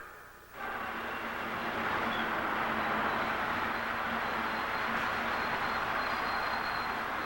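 A train rumbles steadily along the rails with a broad, continuous roar that swells in after a quiet start and holds constant.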